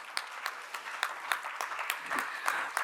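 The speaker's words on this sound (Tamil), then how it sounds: "பெண்களுக்காக இருமுறை கைத்தட்டி" An audience at a Women's Day celebration at a Tamil association in Delhi claps in a quick burst, a series of sharp, close hand claps spread evenly, with no talk over them.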